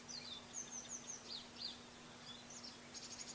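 Several birds chirp and trill faintly in the distance, short high calls repeating irregularly over a steady low hum.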